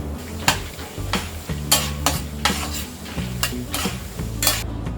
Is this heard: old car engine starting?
no